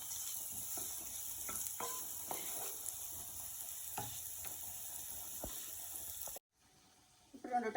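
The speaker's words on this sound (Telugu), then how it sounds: "టమోటా పేస్ట్ వేసుకుంటాను." Tomato paste is added to a pan of fried onions, and a soft, steady frying hiss follows, with occasional spoon taps and stirring scrapes before a sudden drop to near silence.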